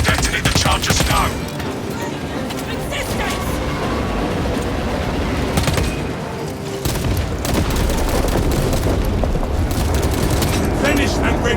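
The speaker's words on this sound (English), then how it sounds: "Detonate the charges now" Explosive charges detonate in the Warhammer 40k Space Marine 2 video game, a dense barrage of heavy booms and crackling blasts layered with gunfire and battle noise that stays loud for the whole stretch.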